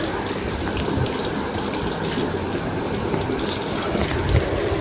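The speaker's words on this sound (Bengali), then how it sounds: "তো প্রথমেই গরম তেলে আমি বেগুনটা ভেজে নিচ্ছি।" Eggplant fries in hot oil in a wok for a puja labra dish, a steady, moderately loud crackling sizzle with bubbling throughout.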